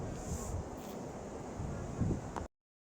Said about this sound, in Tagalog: Ang galing kasi yung ingay ng dagat,